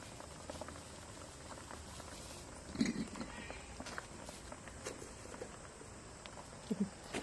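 Hot oil poured over homemade mango pickle, a steady soft bubbling and fizzing hiss throughout, with a few louder crackling pops rising out of it, close and fairly quiet.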